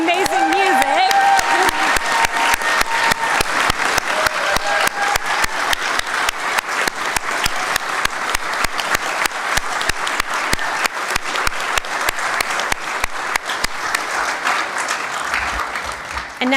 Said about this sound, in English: How about a nice round of applause now for the amazing music?